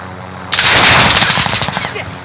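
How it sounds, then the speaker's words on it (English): Close, loud rapid machine-gun fire rattles in Call of Duty Warzone on Rebirth Island, a dense burst of automatic shots lasting under two seconds. "I'm taking fire!"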